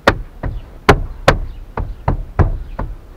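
Front right door trim panel on a 2013-2018 Toyota Corolla being pressed into place, giving eight sharp, close knocks at a fairly even pace of about one every 0.4 seconds, with nothing else heard.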